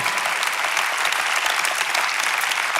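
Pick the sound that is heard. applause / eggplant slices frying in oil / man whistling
applause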